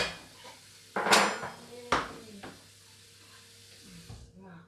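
Metal cookware clatters and clanks a few times in a kitchen as sauce is poured into carbonara pasta, sharp knocks spaced a second apart over a faint sizzle and background hum.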